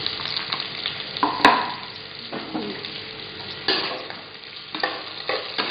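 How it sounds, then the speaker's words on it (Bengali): Egg-and-cornflour-coated soybean chunks frying in a pan: steady close sizzling with scraping stirs and a few sharper clinks of a utensil against the pan, no talking. "ডিম আর কর্নফ্লাওয়ার দিয়ে মাখা সোয়াবিনটা দিয়ে দিলাম।"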